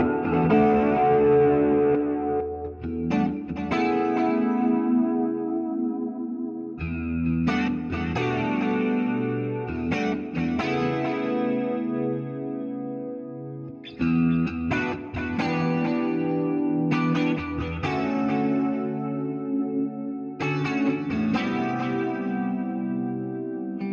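Clean ambient electric guitar played through a TonePrint effects pedalboard, loud and continuous with chorus, echo and reverb washing over strummed chords and picked phrases in several bursts, with no talking.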